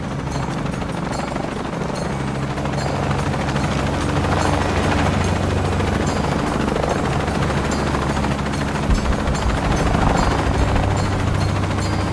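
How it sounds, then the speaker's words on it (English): Helicopter in the Shadow of the Tomb Raider video game, a loud steady rotor drone with low thumping that holds throughout, mixed with game action noise and rumble. "I'm in a chopper."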